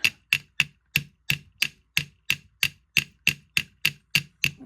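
A hammer strikes a metal part from a Honda CB350 motorcycle about fifteen times in a steady, even rhythm. Each blow is sharp and close, with nothing else heard.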